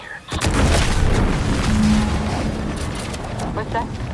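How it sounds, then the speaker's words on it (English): An explosion in the video game The Outer Worlds 2 on PS5 erupts as a sudden loud boom that trails off into a long, heavy rumble. Game sound effects sit around it and a faint voice comes in near the end. "What's that? An explosion?"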